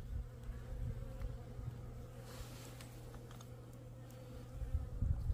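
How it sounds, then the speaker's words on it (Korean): Honeybees crowd at the bottom of a hive near a hole where water runs, sucking up the moisture; a steady, close buzzing drone with no talk. "벌이 지금 하단에 모이죠?"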